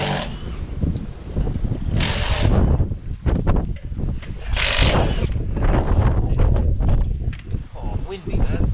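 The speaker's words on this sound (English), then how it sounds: "Oh, windy, man." Gusty wind buffets the microphone outdoors beside a Fiesta ST150 during a rear brake job, a loud steady rumble that surges in bursts, with voices talking over it.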